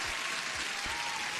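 A short burst of applause plays as a sound effect during a live futures trading stream, dense and steady for about a second and a half with no talk over it.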